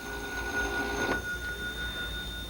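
An old telephone rings in a 1950s science-fiction film scene, a steady electric bell tone that carries through the whole short stretch, fairly faint under a hissy soundtrack.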